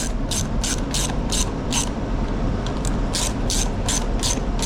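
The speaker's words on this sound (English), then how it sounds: "Well, that is one nice little Craftsman ratchet." A Craftsman ratchet clicks in quick bursts while working on a Honda push mower, loud and close, with short pauses between strokes and no talk.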